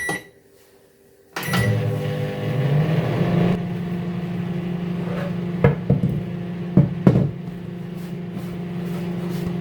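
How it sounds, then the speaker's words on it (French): A kitchen microwave oven is switched on after a quiet moment, its fan and motor settling into a steady hum, with a few clicks and knocks from nearby handling during the run. "Je lance le micro-ondes."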